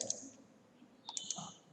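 Computer keyboard keys are pressed in quick succession while working in engineering software, a brief cluster of light, close clicks with a quiet room behind them.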